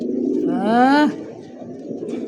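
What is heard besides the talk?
pigeons cooing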